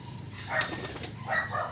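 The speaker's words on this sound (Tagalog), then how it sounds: "Uy, ang daming ibon oh." Pigeons in a loft make soft flutters and short coos in two brief bursts, fairly near and not loud, against a quiet background without talk.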